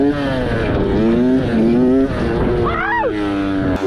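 A Suzuki RM 65 mini dirt bike engine revs high and loud through a wheelie, its buzzy two-stroke pitch climbing and wavering before a sharp drop and rise near the end.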